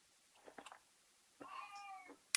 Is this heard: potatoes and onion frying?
no